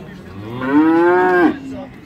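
A single loud cow moo at a livestock market in Beylagan rises and holds for under a second before cutting off, with low murmur beneath.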